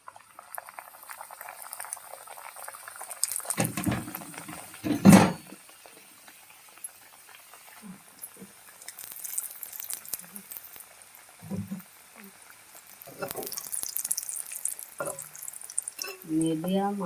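Crispy food deep-fries in hot oil over a gas flame, a continuous bubbling hiss with a few soft clunks and bursts of louder frying, while a voice speaks now and then.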